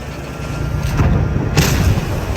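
A tank cannon firing in the World of Tanks video game, one heavy boom with a sharp onset in the middle, over a constant engine rumble.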